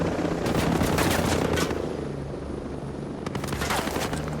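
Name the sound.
helicopters arriving in a video game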